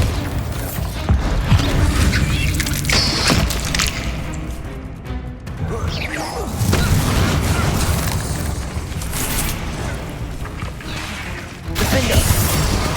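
Bombarda blasting spell in the Hogwarts Legacy game, heavy booming blasts and crashing impacts over a dense rumble of battle noise, with loud bursts near the start, in the middle and at the end.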